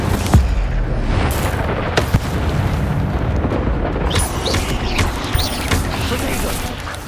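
Fire spell cast in the Hogwarts Legacy video game, a loud burst of whooshing, crackling blast and mechanical rumble that sustains steadily throughout, with sharp pops and crackles layered on top.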